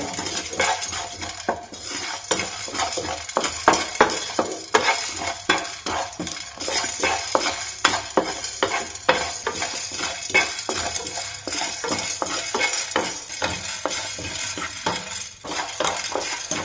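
Cumin seeds dry roasting in a pan, with a spoon repeatedly scraping and clinking against the metal over a soft crackle, steady stirring rhythm throughout, close and moderately loud.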